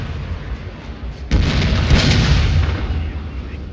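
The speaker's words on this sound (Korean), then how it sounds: "대포 소리가 나." In the video game Shogun 2, a sudden deep boom of cannon fire, followed by a rolling rumble that slowly fades, after a quieter moment.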